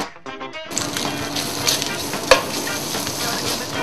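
Pork for carbonara hitting a hot, dry pan with no oil, a loud sizzle bursting in after a brief quiet moment and then holding steady, close up, with one sharp clatter partway through.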